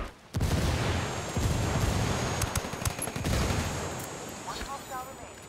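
Dense, sustained gunfire rattles through a video game firefight as a frag grenade is thrown, with sharp shot transients, a rumbling low-end wash and players talking over the combat.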